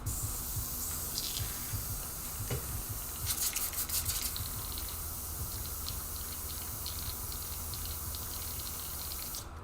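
An airbrush clogged with a small piece of paint sputters and hisses while painting a Joker panel, a steady spray with a rough burst of louder spitting near the middle. No one speaks.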